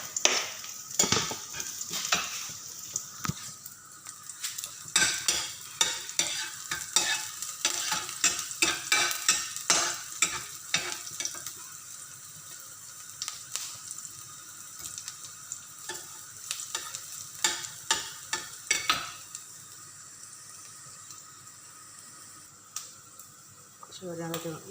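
Garlic frying in a pan gives a continuous crackling sizzle, broken by frequent sharp scrapes and clicks of a utensil stirring, close and moderately loud throughout.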